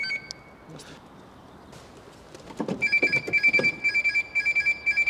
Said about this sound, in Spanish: Y además activar y desactivar una alarma.